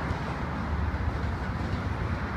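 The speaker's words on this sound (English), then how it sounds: "That's right, Max, it's another train." A train, including a double-decker car, rumbles steadily across a railway bridge in Boston, a continuous low roar and clatter with road traffic in the background.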